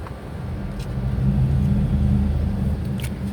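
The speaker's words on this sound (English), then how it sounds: "I am in a parking garage, and due to people coming in and out, the noise" A low engine rumble swells and fades as a car passes nearby in an enclosed, echoing parking garage, with faint distant clicks.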